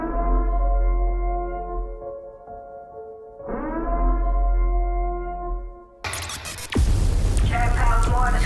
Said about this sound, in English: Commencing at the siren